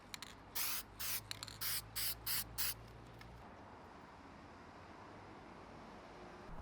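Short bursts from a Plasti Dip aerosol can coating the bumper of a 2025 Honda, six quick hissing sprays in a steady rhythm, close and fairly quiet, followed by low background noise.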